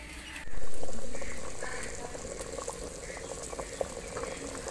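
Water with vegetables in a cooking pot boils in a steady close bubbling simmer after a short surge at the start, with small pops scattered through it.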